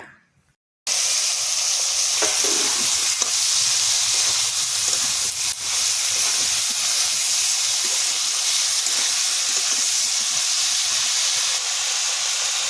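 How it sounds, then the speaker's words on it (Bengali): Onion, shrimp, eggplant and potato frying in a pan make a loud, steady sizzle and hiss that starts abruptly after a brief quiet moment and continues without talk. "এবার বেগুন আলু দিয়ে ভেজে নেব"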